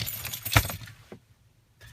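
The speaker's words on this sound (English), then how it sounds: "The keys went in the floor." A short metallic jangle and clatter as car keys drop and hit the floor of a 2015 Chevrolet Equinox, followed by quiet and a faint rustle.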